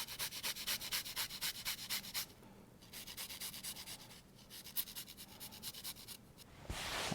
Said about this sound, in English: And then I'll just use the same grater for the garlic.